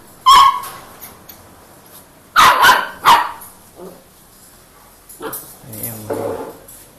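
A litter of 46-day-old Belgian Malinois puppies gives a few loud, sharp barks close by, separated by pauses, then softer yips and whimpers.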